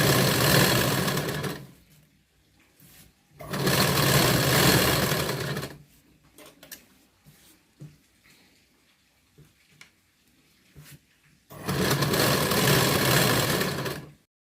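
A sewing machine stitching blouse fabric with a lining turned inside, running in three loud bursts of steady whirring separated by quiet pauses with faint handling clicks.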